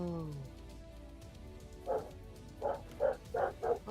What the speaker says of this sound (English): Dogs in the background.